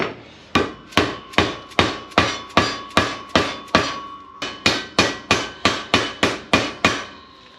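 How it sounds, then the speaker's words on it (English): Sharp, evenly spaced dead blow hammer taps seating a drive shaft universal joint bearing ring out one after another, about sixteen blows with a brief pause midway, close and loud with no talking. "we're going to tap our top bearing in with a dead blow hammer or a copper hammer"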